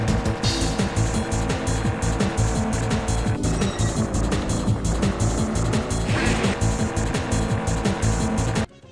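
Race cars in the Nintendo 64 racing game Scars, with loud, continuous engine whine, rapid pulsing revs and tire noise running throughout, ending in a sudden cutoff.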